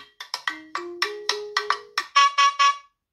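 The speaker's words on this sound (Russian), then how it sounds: "Это первый рингтон." A Tecno Camon 20 Pro phone ringtone plays alone: a quick series of bright synth tones over a low sustained note, ending in three louder chiming bursts.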